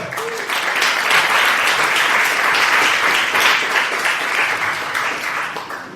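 A church congregation applauds during a worship service, a thick, continuous wash of clapping that stays loud and even for several seconds before easing slightly at the end.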